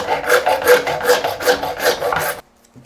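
A handsaw cuts an internal mitre in CladSeal PVC trim held in a mitre block, giving about six loud, rhythmic rasping strokes up close, then stops abruptly into near silence.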